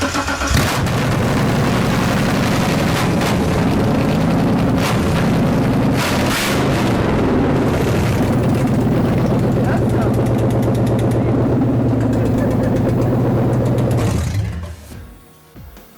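A Ford Coyote V8, swapped into an F100 and running off jumper cables from another car, cranks and catches, then settles into a loud, lumpy idle close by before cutting off near the end.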